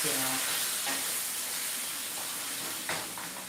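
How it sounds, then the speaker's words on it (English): Pasta sauce cooks on low heat in a pan, a steady close hiss and sizzle that runs throughout, with a couple of faint clinks over it and no talk. "Throw your sauce in there. Turn your heat down to low."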